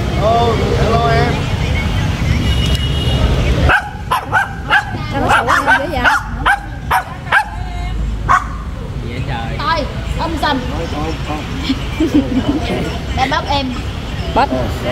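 A dog barks in a sharp series of loud yips and woofs at a café, coming in bursts after a stretch of background noise, with people talking around it.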